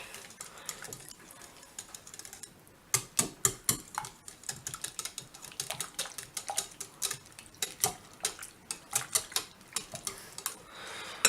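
Bread dough mixed by hand in a bowl: a rapid run of sharp, close clicks and taps, irregular but dense, with a quieter opening stretch and no talking.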